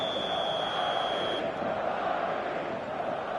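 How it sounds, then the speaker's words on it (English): Stadium crowd in a football video game on PS4, a dense, steady roar of many voices at a distance, sustained throughout without clear breaks. "this place is living up to its reputation as one of the noisiest corners of the footballing world"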